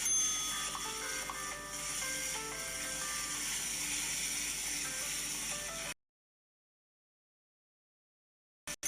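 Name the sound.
bell ringing in Cooking Talent video game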